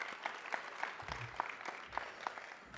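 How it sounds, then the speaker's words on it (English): Audience applause at a hall of fame ceremony, a steady patter of clapping from a seated crowd in a hall, moderately loud and sustained for a few seconds. "let's give that a round of applause for them."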